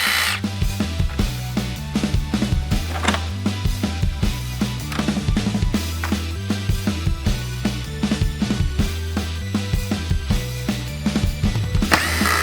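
Grille bolts being removed from a Ford Bronco Raptor with a power tool, giving loud, close, repeated short mechanical bursts in a quick uneven rhythm.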